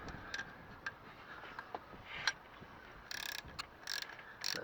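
A ratchet snugging the alternator bolts on a Classic Mini during restoration, with crisp close clicks, first spaced singly and then in quick rattling bursts, in a quiet setting.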